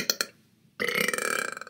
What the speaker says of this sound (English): Don't judge the burps.